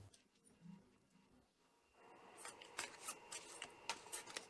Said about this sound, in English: Let's shuffle the cards a bit.